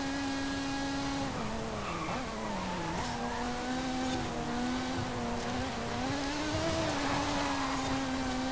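A Lotus Emira racing in Forza Horizon 5, its engine holding a steady tone that dips and climbs through gear changes, with faint tyre noise, continuous and moderately quiet with no talking.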